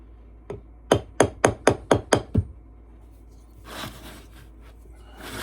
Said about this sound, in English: I hit the hammer right on the corner of that